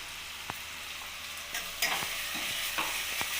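Cashew and yogurt paste is stirred into a sizzling masala in a wok for paneer kofta curry, with a soft steady hiss and a few distinct spoon scrapes and taps, close and without speech.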